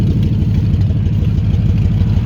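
Roofless Ford Expedition truck engine running steadily, a loud close low rumble with a chugging idle pulse and no voices.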